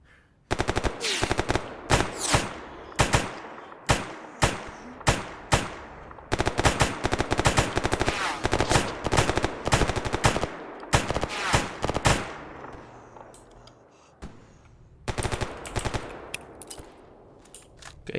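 Rapid automatic gunfire from the shooter game Escape From Pripyat, loud and close, in repeated long bursts with short pauses and no talking.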